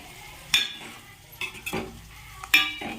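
Boiled eggs being gently stirred into a frying masala in a pan, with a low steady sizzle and a few soft scraping stir strokes, including two sharper clinks of the spoon against the pan.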